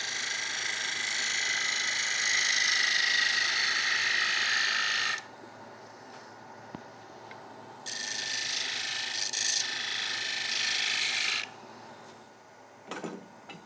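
A bowl gouge with a 60-degree bevel and the heel removed cuts a spinning wooden bowl on a lathe. It makes two long, loud stretches of hissing, scraping noise, separated by a quieter pause, and ends with a few short knocks.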